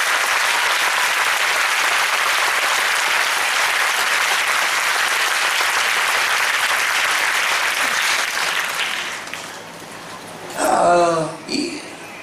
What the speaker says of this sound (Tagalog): parang gusto niyo malakasan ang palakpak niyo